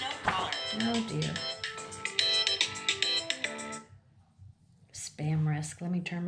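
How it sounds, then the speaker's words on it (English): A mobile phone ringtone from a spam call rings out as a loud melodic tune for about four seconds, then stops; a person speaks briefly afterward. "Spam risk. Let me turn my phone off."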